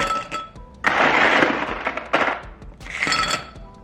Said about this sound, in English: So now I have my glass and I'm gonna add some ice into it.